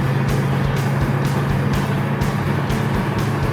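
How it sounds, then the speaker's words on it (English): Ford Mustang GT coupe with its 289 V8, an all-original car, droning steadily from inside the cabin with a low rumble and rhythmic pulsing as it revs, loud and with no talk. "That 289 is really eager. It doesn't mind revving a little bit."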